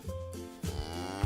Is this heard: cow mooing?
yes